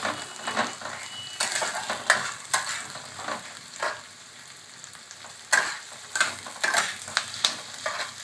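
A spoon scrapes and stirs mushroom curry with garlic paste sizzling in a hot pan, giving repeated close scraping strokes over a steady frying hiss, with no talking.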